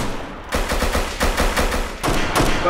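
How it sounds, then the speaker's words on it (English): Rapid bursts of gunfire in the Roblox game, set in South London during a gang war, crackle in dense volleys with a short pause before another burst, loud and close throughout. "Why is she shooting me?"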